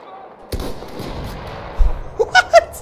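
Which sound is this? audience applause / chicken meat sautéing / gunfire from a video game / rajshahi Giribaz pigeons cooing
gunfire from a video game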